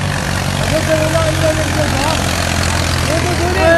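A tractor engine drones and idles steadily as it drives through a flooded street in Karachi after heavy rain, with a low rumble throughout and excited voices talking over it.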